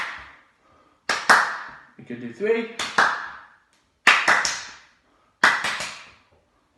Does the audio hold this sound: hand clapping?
yes